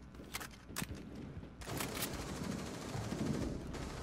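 Gunfire in a video game, with bursts of rapid shots and sharp cracks over a continuous rumbling battle mix, fairly faint and with no speech.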